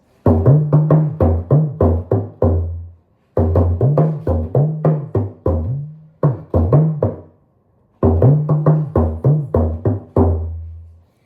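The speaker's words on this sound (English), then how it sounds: "Compared to the drum that I already humidified, that will sound like this" A deep, humidified drum is struck in repeated quick runs of thudding hits, each ending in a sustained low boom, separated by brief pauses.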